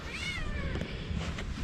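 A cat meows once, a clear drawn-out rising-and-falling cry close by inside a cleared-out bus, over a steady low background rumble.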